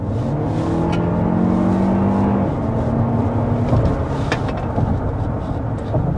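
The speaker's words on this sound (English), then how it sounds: "Alright, here's a little punch of the accelerator." A 2024 Lexus TX 500h hybrid SUV with a 2.4-liter turbocharged four-cylinder accelerates hard, its engine note building from a steady low drone as rising tones climb and then level off, heard from inside the cabin without speech.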